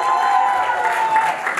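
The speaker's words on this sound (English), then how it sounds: "everyone give the bride and the groom a huge round of applause" Applause and cheering from a wedding reception crowd at a Nepali celebration for the bride and groom, a dense steady wash of many hands clapping with crowd noise, fairly close and sustained throughout.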